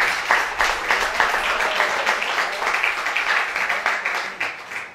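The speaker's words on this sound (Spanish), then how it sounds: "A su nombre, dele palmas al Señor." A church congregation in Buenos Aires claps hands in praise, a steady, dense round of applause at moderate volume that fades out toward the end.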